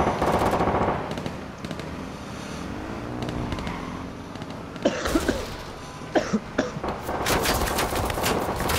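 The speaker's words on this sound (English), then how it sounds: "They're shooting me" Sustained gunfire rattles through a first-person shooter firefight, with dense automatic bursts and sharper isolated shots toward the end, loud and close.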